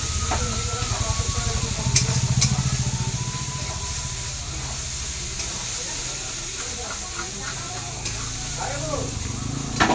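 Spice paste fries and sizzles in a pan for a jackfruit and shrimp curry, a steady hiss with occasional spatula scrapes, while someone talks over it.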